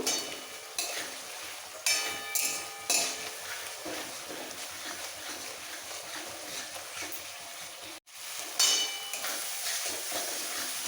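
Masala with fried potatoes for an okra and potato curry stirred in a pan, a steady close sizzle with repeated spatula scrapes and clinks against metal and a brief cutoff partway through.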